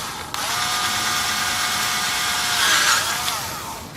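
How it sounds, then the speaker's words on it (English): Electric drill boring a hole into the back of a Ni-Cad battery pack casing, a single loud whining run of about three seconds with pitch rising as the bit cuts through, then winding down. "I'm going to drill this right in the back"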